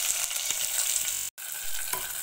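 Onion, green chili and garlic frying in a pan for dhal fry, with a steady close sizzle, a few stirring scrapes and a brief dropout partway through, heard alone.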